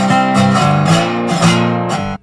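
Slide guitar in open G playing the call phrase of the Delta blues tune Rollin and Tumblin, several loud plucked notes with sliding pitch in a steady rhythm, played alone and close.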